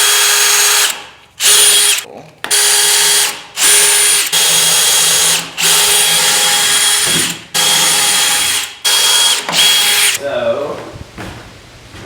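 Power drill driving screws into a workbench surface of 3/4 inch material in short repeated bursts, about eight loud close whirs separated by brief pauses, with a brief spoken word between bursts.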